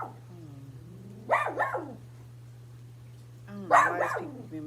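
A dog barks in two short bursts of a few harsh barks each, fairly close, over a steady low hum with quiet room tone between.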